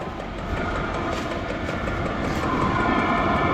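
A cheap diesel heater runs with a steady, droning mechanical hum and a low rumble, continuous at moderate loudness, with no voices.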